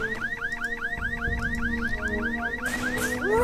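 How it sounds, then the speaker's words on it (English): Repeating electronic alarm in the Jagged Alliance 2 Wildfire video game, a rapid chain of rising whooping chirps cycling several times a second, loud and continuous, with a brief burst of harsher noise near the end. "I love how nobody's bothered with the alarms going off everywhere."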